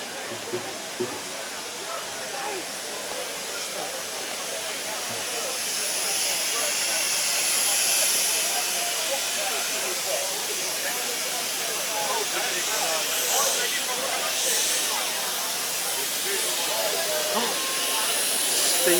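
Steam hisses continuously on a London street, a loud, steady broadband hiss that swells slightly midway, with people talking faintly under it.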